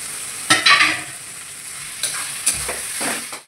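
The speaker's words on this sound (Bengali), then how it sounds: "এবার এইটা ভালোভাবে কষাতে হবে যতক্ষণ না তেল ছাড়ছে মশলা দিয়ে" Spice masala and chopped tomato sizzle in a pan, with a handful of sharp spatula scrapes and knocks standing out over the steady crackle of oil.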